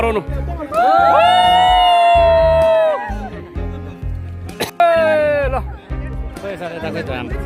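A group of people on a boat shouts and whoops loudly in long cheering bursts, with chatter and a low rumbling engine underneath.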